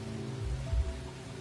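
Rain falls steadily in a continuous, dense hiss with a low rumbling undertone that swells briefly, no voices.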